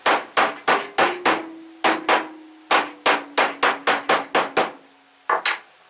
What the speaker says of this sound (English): can't do nothing without a hammer